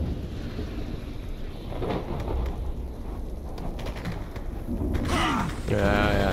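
A stormy wind with deep rumbling thunder in a S.T.A.L.K.E.R.-style game's meadow wilderness, a steady loud roar with a brief voice or tonal sound near the end.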